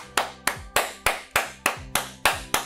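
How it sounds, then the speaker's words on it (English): Firm, single hand claps from one person during a finger-joint exercise routine, about nine sharp evenly spaced slaps at a steady rhythm, close and clear with no talk. "Okay, now clap."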